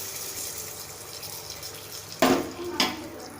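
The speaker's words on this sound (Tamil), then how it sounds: "இப்போ நம்ம தாளித்து வச்சுருக்கோம் சேர்த்திக்கலாம்." Hot tempering is poured into a chana dal and snake gourd kootu and stirred in. Two short sizzling hisses rise sharply, a moment apart, over faint kitchen quiet.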